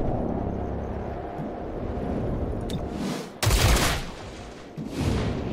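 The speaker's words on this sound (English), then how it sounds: "Assault rifle." Assault rifle fire in XCOM Chimera Squad comes as a loud, sudden burst of rapid shots over a steady rumbling game background, with a second rush of noise shortly after.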